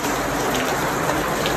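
Rain falls in a steady, dense hiss, close and fairly loud, unbroken through the whole stretch with no voices.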